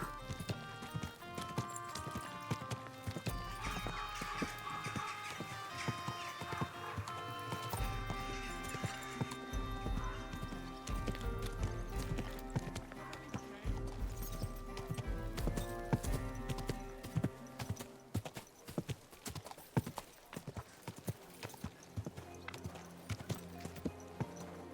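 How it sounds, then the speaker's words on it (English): Horse hooves clip-clop steadily in the medieval game Kingdom Come: Deliverance, a continuous rhythmic trot with an occasional neigh, set against game music and ambience throughout. "Easy, good horse."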